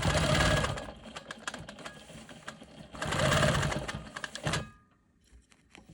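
A sewing machine stitches quilting along fabric sashing, its rapid needle chatter running loud in two steady bursts before stopping, with brief handling clicks afterward.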